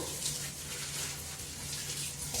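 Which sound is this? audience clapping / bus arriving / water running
water running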